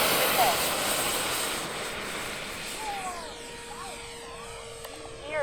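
An Arrows F-15 RC model jet on its maiden flight at Fritz Field airfield, heard as a steady whooshing ducted-fan roar that fades somewhat as it passes, with a voice speaking and faint whistling tones.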